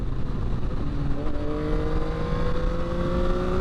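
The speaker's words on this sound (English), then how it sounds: "this is my first acceleration with the bike" 2022 Yamaha XSR900 motorcycle accelerating, engine note rising steadily in pitch through the rev range, loud and continuous with wind rush, heard from the rider's position without talking.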